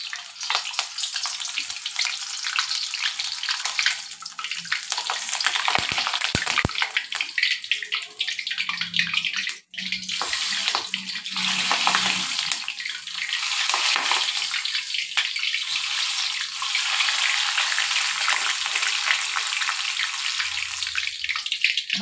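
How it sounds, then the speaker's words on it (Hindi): Halved green chillies fry in hot oil for a vada pav batch, a steady bright sizzle crackling throughout with a brief dip near the middle, close and fairly loud with no talking. "हम सबसे पहले मिर्चे तल के लेंगे, मिर्चों को 2 करके लेंगे तो मिर्ची अच्छी तली जाती है।"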